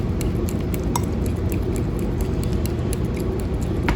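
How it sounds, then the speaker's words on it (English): Utensils mash and stir food in a pot aboard a towboat, a continuous soft scraping and squelching with scattered light metallic clinks, close and steady. "just keep mashing as you're stirring"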